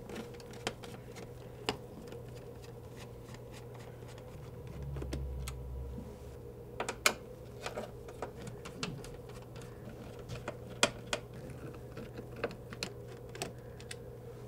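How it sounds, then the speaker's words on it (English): Screwdriver work on an HP Pavilion 31.5-inch all-in-one desktop PC, backing out P2 Phillips screws that hold the speakers: sparse, sharp little clicks and ticks scattered over a steady low hum, close and fairly quiet. "Next, we'll take out these 10 P2 Phillips head screws"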